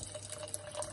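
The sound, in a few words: water poured into a saucepan of honey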